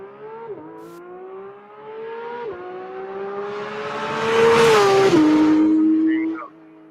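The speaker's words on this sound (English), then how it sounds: "And you want to hear the sound? This is how it sounds. This car." A car engine revs loudly and close by, holding a steady tone that climbs into a strong surge near the end before cutting off. Speech is faint in the background.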